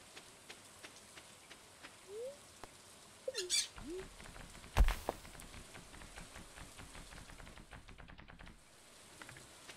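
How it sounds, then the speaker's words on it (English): Rain falls in the Stardew Valley farming game as a faint, steady patter, joined by a few soft chirps, light clicks and one sharper tap. "It's raining here."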